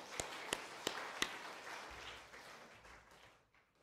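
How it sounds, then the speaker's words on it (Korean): A church congregation claps in a brief welcome for visiting relatives and neighbours, a few distinct claps over a soft spread of applause that fades out, faint and distant. "우리 박수로 환영해 주시기 바랍니다."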